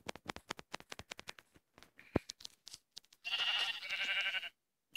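A Minecraft sheep gives a short wavering bleat, loud and close, following a run of quick clicking game sounds.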